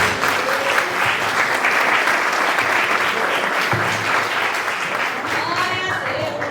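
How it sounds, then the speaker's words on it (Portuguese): A church congregation claps loudly and steadily throughout, a dense roar of applause with a few voices calling out over it. "E as palmas para o Senhor nesta noite."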